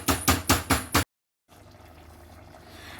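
Cooking water is drained from three-quarters-cooked rice for a vegetable dum biryani, with four rhythmic splashing pulses of pouring water, a brief silence, then a low steady trickle.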